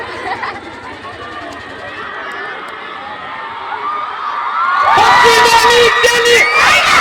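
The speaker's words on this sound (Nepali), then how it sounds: "यिनीहरूको चाहिँ जो हुटिङ छ नि चाहिँ बवाल छ है" Crowd of boys in Darchula, Nepal: murmur and a voice at first, then a loud burst of hooting, whooping and cheering that swells and carries through to the end.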